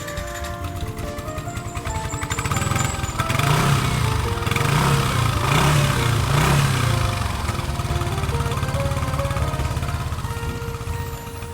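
A 2016 Yamaha NMAX 155 scooter engine runs steadily nearby with a continuous mid-pitched hum and faint mechanical ticking, fairly loud and without speech.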